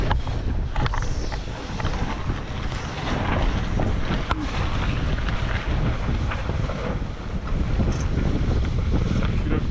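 Strong, steady wind roars over a sailboat at sea ahead of a storm, a continuous loud rushing gust noise buffeting the microphone with no let-up.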